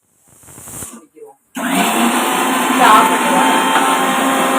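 A kitchen mixer grinder whirs loudly and steadily as it grinds coconut, cumin, garlic and chili powder, starting abruptly after a few faint clinks and handling sounds.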